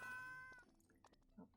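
A single drawn-out cat meow, fairly close, followed by a few soft rustles and small sounds in a quiet room.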